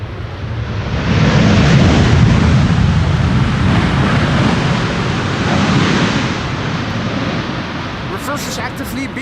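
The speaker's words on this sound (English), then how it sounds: "Reversers actively being used by the Dreamliner." Boeing 787 Dreamliner landing at Amsterdam Schiphol with its thrust reversers deployed, a loud, broad roar that swells early and rumbles on steadily before fading, heard outdoors at a distance with wind.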